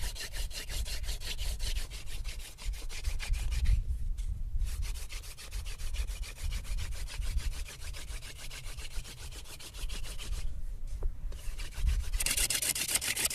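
Wooden friction-fire spindle rubbing steadily into a wooden fireboard, a continuous rhythmic grinding scrape with rapid back-and-forth strokes, broken by two short pauses before resuming at the same close, fairly loud level.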